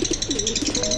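A pet pigeon coos close by in a few soft, low, throaty phrases that run back to back through a short stretch, with no voices over it.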